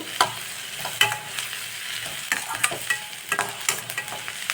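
Carrots and capsicum sautéing in a pan, a continuous sizzle broken by repeated scraping stirs of a spatula, close and fairly loud, with no talking.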